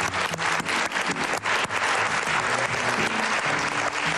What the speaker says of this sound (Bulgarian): Браво! Силни аплодисменти!